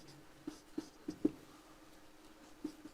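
A marker or chalk writes a word on a classroom board, leaving a few short, faint taps and strokes spaced unevenly across a quiet room.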